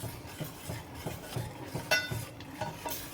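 A spoon stirring thickening appam batter in a pan, soft rhythmic scraping and light clinks repeating at a steady pace, quiet and close, with no voices.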